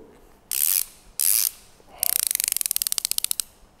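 Close-up mechanism sounds from a hand ratchet: two short loud zips, then a rapid run of crisp clicking pawl ticks that spreads out and slows as it ends, with no voices.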